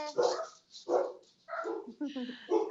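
Dogs bark in a run of loud, close, yelping barks and yips, some whiny and high, coming in repeated bursts over about three seconds.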